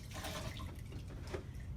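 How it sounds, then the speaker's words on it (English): Distilled water runs over surgical instruments as they are rinsed, a faint, short splashing trickle with a brief drip near the end. "We're going to rinse off any excess with some distilled water."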